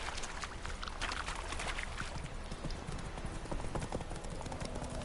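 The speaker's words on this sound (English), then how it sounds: "Y montemos a nuestro caballo." Horse hoofbeats clop steadily and rhythmically as a rider travels on horseback in The Witcher 3, close and continuous over a soft outdoor ambience.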